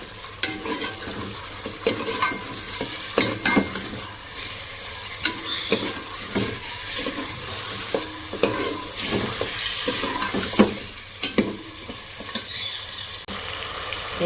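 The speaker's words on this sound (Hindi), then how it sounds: "ये प्याज जब हल्की इस तरह से हो जाएगी गोल्डन, तो इसके अंदर हम डाल देंगे गोश्त।" Bone-in beef pieces frying with golden onions in a pan, a steady sizzle broken by repeated scraping and stirring clatter throughout.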